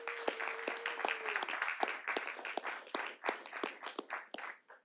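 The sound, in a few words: audience applause at city board meeting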